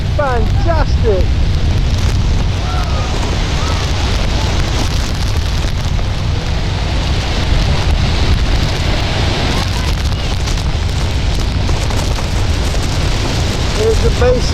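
Niagara Falls roars as a loud, steady broadband rush of falling water, with wind buffeting the microphone and a voice speaking over it briefly at the start.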